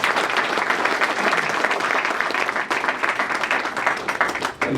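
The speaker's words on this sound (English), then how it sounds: "and her planning team Sean and Pam and Yuki deserve a round of applause just for putting this event on." Crowd applause at a Sister Cities International 60th anniversary celebration for San Jose and Dublin, dense sustained clapping from a sizable audience that holds steady and tapers slightly at the end.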